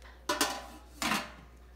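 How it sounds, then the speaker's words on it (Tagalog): Lid of a Breville food steamer set down in two quick clattering contacts about a second apart, close and fairly faint in a quiet room. "So, ilalagay mo yung takip."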